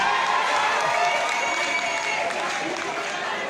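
Audience applause at a live stage show, a dense steady wash of many hands clapping with crowd noise, fairly loud and continuous throughout.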